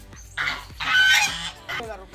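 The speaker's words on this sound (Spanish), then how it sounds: "Esos son los gansos." Canada geese honk nearby, three or four loud, nasal calls in quick succession with short gaps between them.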